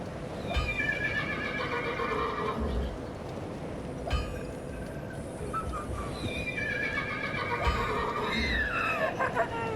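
A dog imitates a horse, giving repeated whinny-like neighs over hoof-like clopping and steady background noise, loud and close throughout.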